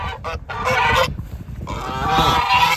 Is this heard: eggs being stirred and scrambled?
no